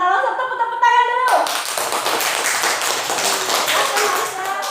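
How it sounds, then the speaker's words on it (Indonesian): Children clap their hands together in an Indonesian classroom after a group presentation. A voice speaks briefly first, then a burst of many quick claps comes in and continues steadily to the end. "Tepuk-tepuk tangan dulu."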